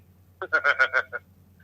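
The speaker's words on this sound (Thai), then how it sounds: "โทรศัพท์" A telephone rings in a quiet room during a Buddhist dharma talk broadcast, giving five or six quick tonal bursts in a row, fairly loud and close, then falling silent.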